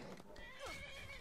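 A horse whinnies in Skyrim, a rising-and-falling neigh near the middle, over steady game ambience with hoof clip-clop and a voice mixed in.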